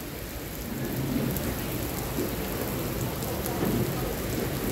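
Heavy rain falls in Bedok as a loud, steady, dense hiss that stays constant throughout, with no voices over it.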